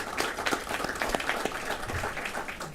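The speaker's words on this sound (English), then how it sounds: "I ask for your applause" Applause from an audience at a school district board meeting, steady broadband clapping lasting a few seconds, moderately faint and even, with faint voices mixed in.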